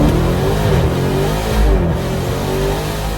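A Dodge Challenger Demon 170 engine revs loud and close, a deep rumbling roar that swells and settles over about three seconds, with no talk.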